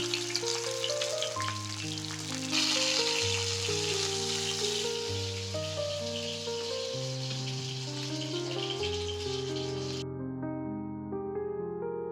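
Rui fish pieces frying in oil give a steady sizzling hiss beneath continuous background music; the frying noise cuts out near the end while the music carries on.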